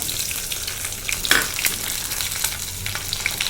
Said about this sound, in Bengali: কড়াইতে প্রথমে তেল দিয়ে দিলাম তারপর তেজপাতা আর শুকনো লঙ্কার পাঁচ ফোড়ন জিরে ফোড়ন সব কাঁচা লঙ্কা সব এগুলো দিয়ে দিলাম ফোড়নের জন্য